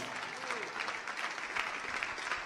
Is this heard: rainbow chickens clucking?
no